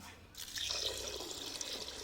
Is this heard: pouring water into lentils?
yes